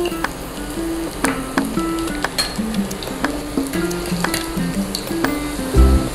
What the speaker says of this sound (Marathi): तेल गरम झालेलं आहे, ह्याच्यामध्ये आपण लसूण घालणार आहोत।